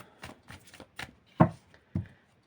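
New tarot cards shuffled up close in a handful of short, crisp riffling bursts separated by brief pauses, the last two sharper and louder.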